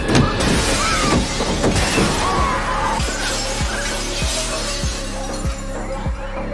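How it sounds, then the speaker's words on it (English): A chaotic movie scene of multiple car crashes with birds flying into buildings, people and cars: loud shattering glass and smashing impacts up front, then a run of regular thudding hits under continuing crash noise. "Dozens of crashes, mass injuries."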